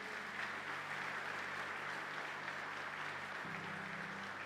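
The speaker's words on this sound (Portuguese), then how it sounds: "Dê para Jesus uma salva de palmas" A church congregation at a Quadrangular service applauds in praise, giving a continuous, even wash of many hands clapping that is fairly faint and distant.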